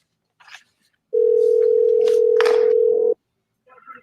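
A single steady telephone call tone sounds loud and unbroken for about two seconds as a caller is phoned on a live psychic call-in broadcast, with faint voices just before and after.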